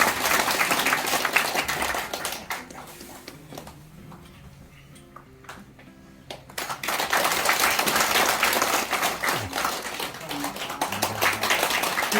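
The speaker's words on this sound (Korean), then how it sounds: "오늘 박수로 받으시기 바랍니다." Audience applause at a park golf association chairman inauguration ceremony, loud clapping that thins into a quieter stretch with sparse claps and murmuring, then swells back to full, steady applause.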